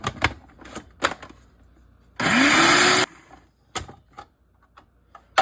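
A food processor blitzing garlic cloves and herbs for pesto: a loud, steady whirring buzz lasting about a second, with the motor pitch rising as it spins up, framed by sharper knocks and taps before and after.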